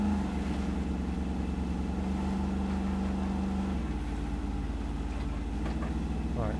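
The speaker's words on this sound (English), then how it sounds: "I do like the sound the engine of this makes compared to some of the others." A truck's engine drones steadily while driving on a bumpy road in the RoadCraft video game, a grunty low rumble with a sustained tone that shifts pitch partway through, alone without talk.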